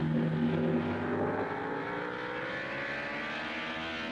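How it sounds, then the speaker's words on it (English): Engines of 1955 Formula 1 racing cars drone past at Aintree during the British Grand Prix, a steady loud roar whose pitch slowly slides as the cars stream by, with no talk. "Down from Country Corner to Village they stream, with Fangio kicking up clouds of dust as he clips the grass."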